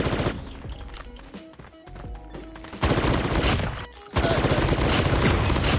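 Rapid gunfire from a gun in the mobile video game Call of Duty Mobile, loud and dense, rattling in fast sustained bursts with a short dip near the middle before it resumes at full strength.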